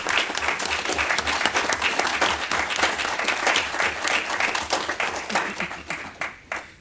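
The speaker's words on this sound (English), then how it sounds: "Would y'all please give Michael a round of applause?" An audience gives a round of applause at a community event, with dense, steady clapping from many hands close by that fades toward the end.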